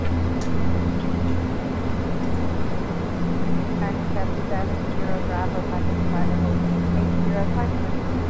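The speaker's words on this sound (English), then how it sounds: "One of the best sounding planes we've got with the props and everything." Bombardier Q400 turboprop engines hum steadily in the Eurofly flight simulator on a Newquay to Newcastle run, a loud, constant propeller drone with tonal whine, under people talking.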